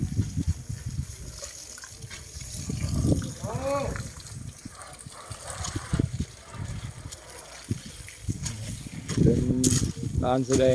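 Running water splashes intermittently while hands wash something during a morning walk with elephants, with someone talking over and between the gushes; the water comes in bursts of varying loudness.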